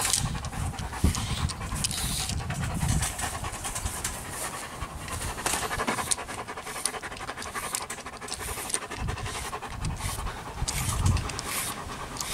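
A long-haired German Shepherd pants in a steady, rapid rhythm while being brushed, close and fairly quiet, continuing evenly throughout with faint brushing noise behind it.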